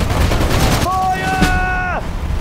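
Battlefield gunfire in the World War II strategy game Sudden Strike 4, set at the Mareth Line in 1943: dense continuous crackle and booms with a brief whining tone, over shouted voices and game chatter.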